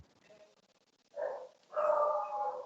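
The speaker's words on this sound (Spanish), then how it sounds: "Esos perritos no son míos." Small dogs barking in the background during a medical lecture, a quiet yip followed by a longer, louder burst of barking, fairly close.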